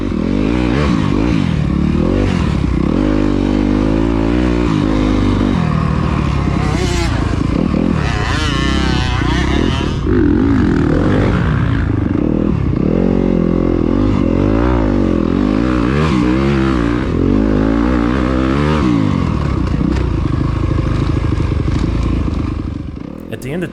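A Yamaha YZ250FX dirt bike ridden through a sand pit during a sprint enduro race in Meridian, Mississippi: a loud, close, continuous engine that revs up and down throughout, with clattering and scraping mixed in.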